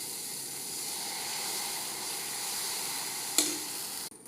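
Spinach dosa batter sizzles on a hot pan with a steady, faint, soft hiss, broken near the end by a brief clink.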